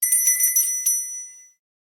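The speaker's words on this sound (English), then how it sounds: "That's the bell." A bright bell sound effect rings a few quick metallic dings in a row, then one last ding that lingers and decays into silence.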